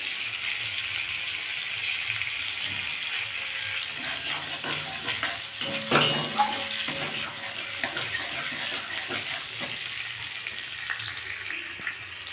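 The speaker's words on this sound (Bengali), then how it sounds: "ওই তেলের মধ্যেই আমি একটু কালো জিরে ফোড়ন দেবো" Black cumin (kalonji) seeds hit hot oil left over from frying prawns, giving a steady hissing sizzle with faint crackles and one sharper pop midway.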